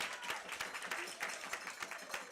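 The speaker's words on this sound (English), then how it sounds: "Give a nice round of applause to Kendall Bennett." An audience at a Ruston football event claps for Kendall Bennett, fairly faint, with scattered distinct hand claps rather than a full roar, and a little background murmur.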